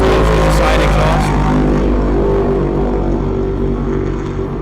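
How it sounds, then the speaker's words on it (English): Racing powerboats with side exhaust roar past at the Lake Hopatcong Grand Prix, a loud, continuous engine drone filling the whole stretch with no pause. "You can really hear these boats with the side exhaust."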